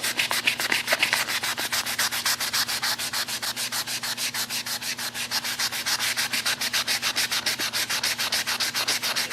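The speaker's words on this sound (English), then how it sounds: "This really loads the sandpaper fast." Sandpaper rubs rapidly back and forth over primer on the body of a rusty Chevrolet Suburban, a loud, close, steady rasping rhythm of even strokes with no talking.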